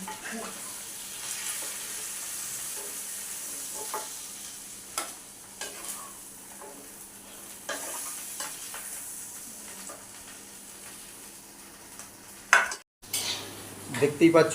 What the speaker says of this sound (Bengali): বন্ধুরা এই যে মাছের মাথা ভাজা হয়ে গেছে